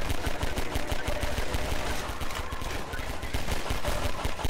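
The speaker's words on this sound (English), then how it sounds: "there's so much gunfire going on" Rapid automatic gunfire in the video game Half-Life 2 rattles on continuously, dense bursts of shots overlapping with no pauses, loud and close.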